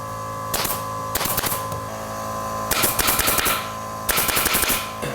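A staple gun fires in quick bursts of sharp clicks and rattles, driving small staples to hold glued plywood pieces together during prefab cabin assembly; four separate volleys sound close and clear over a steady background hum.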